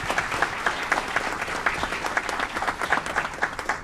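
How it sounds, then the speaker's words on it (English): Applause from the audience at an Aurora city council meeting: a steady, dense patter of many hands clapping that holds for about four seconds with no talk over it. "Keep that round of applause going for Simon Rodriguez."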